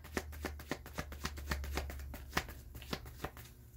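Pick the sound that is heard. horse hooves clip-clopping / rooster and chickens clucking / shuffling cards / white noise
shuffling cards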